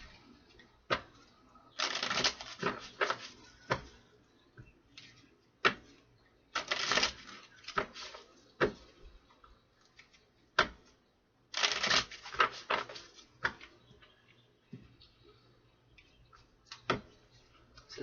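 Tarot cards being shuffled and drawn up close, with bursts of riffling and flicking between sharp single card snaps and taps, fairly quiet with pauses in between.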